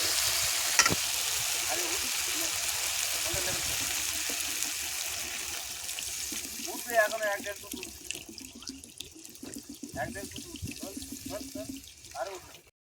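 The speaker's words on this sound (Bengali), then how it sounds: "এবারে সবজিতে দিয়ে দেব জল।" Water pours steadily into a pan of spiced ridge gourd and potato frying in oil, a loud, close gushing splash that gives way to bubbling sizzle and stirring, with a voice talking at points.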